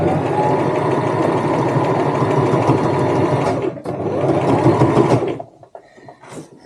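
A sewing machine stitches a tote bag strap in place, running in a steady loud mechanical whir with a brief stutter partway through before it stops and goes quiet.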